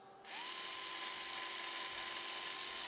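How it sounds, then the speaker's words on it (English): A small high-speed electric drill spins up and bores into a piece of wood for a wooden alligator-clip terminal, giving a steady, close whine that runs unbroken after a brief start. "I'm gonna drill a hole into this one."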